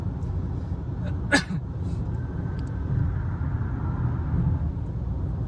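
A rental car on a smooth Florida road, heard from inside as a steady low road and engine rumble throughout, with one brief sharp burst near the start.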